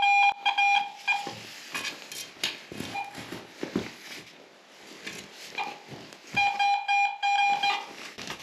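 A metal detector beeps in steady tonal bursts over a large, round aluminum object, with a cluster of beeps at the start and another near the end, separated by digging and handling noise.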